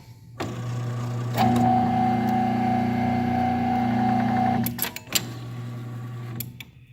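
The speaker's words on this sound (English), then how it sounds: "I'm going to turn this cutter on. You can see the display screen there, but I'm just going to do a cut." A motorized cutting machine whirs up and runs a cut with a steady mechanical hum and whine for a few seconds, then stops with a few clicks before a brief second whir.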